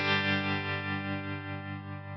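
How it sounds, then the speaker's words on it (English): Sustained electric guitar chord played through a Fractal FM9 tremolo preset, a rich harmonic tone pulsing gently in volume with a steady wavering rhythm, close and even throughout. "preset 4 is going to turn on my tremolo."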